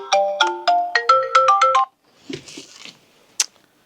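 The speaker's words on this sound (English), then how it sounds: "And stop my phone from ringing." Mobile phone ringtone plays a bright melodic run of quick beeping notes, loud and close, then cuts off, followed by faint handling rustles and a short click.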